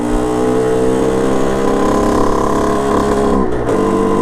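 A 50cc motorbike that starts but barely moves because the throttle won't open fully drones loudly and steadily up close, its strained engine holding a buzzing, harmonic-rich note with a brief dip near the end.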